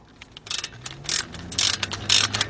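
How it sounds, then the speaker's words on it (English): A 17mm ratchet turns a brake caliper bolt on a 2013 Ford Explorer with a 3.5 engine during front brake pad work. It makes four bursts of close, crisp rapid clicking, evenly spaced and with no voice. "Get your 17mm ratchet."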